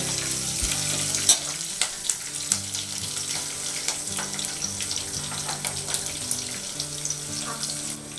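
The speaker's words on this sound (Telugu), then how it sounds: "ఇప్పుడు దీనిలో పచ్చి మిరపకాయలని కోసుకొని వేసుకుంటున్నాను. ఇక్కడ జాగ్రత్త, ఆయిల్ చిమ్ముతుంది." Cut green chillies hit hot oil in a pan, giving a close, steady spluttering sizzle with irregular sharp pops and crackles throughout, no voices.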